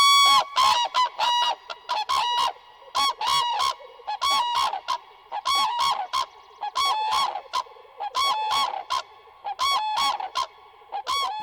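Bean geese honk repeatedly in a northern Finnish mire, a series of loud, nasal calls in irregular bursts with short quiet gaps, alone without talk.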